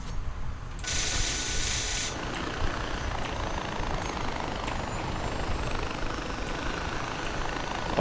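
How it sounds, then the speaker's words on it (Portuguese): A helicopter in the video game Far Cry 4 flies with a steady, loud rotor thrum throughout, joined by faint periodic mechanical ticks and a brief high whine early on, with no talking. "Sorte que eu vim com o helicóptero."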